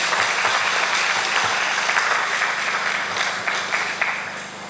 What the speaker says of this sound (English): Another big round of applause for them, please.